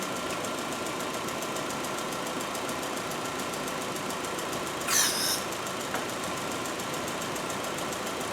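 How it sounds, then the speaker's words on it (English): A 2014 Chevy Sonic engine idles in a steady, even drone while its AC compressor kicks on midway with a brief click and whirr, close up and with no talking. "I just heard the compressor kick on."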